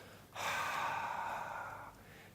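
A broad, airy breath sound swells in and holds for about a second and a half before fading, like a vast crowd exhaling together.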